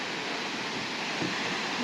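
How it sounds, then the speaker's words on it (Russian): A waterfall with several viewing platforms in Mersin, Turkey, heard at dusk as a steady, dense rushing roar of falling water, continuous and fairly close with no talk over it. "Вот такой водопад, несколько площадок."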